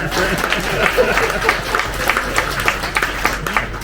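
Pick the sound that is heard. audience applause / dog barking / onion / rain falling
audience applause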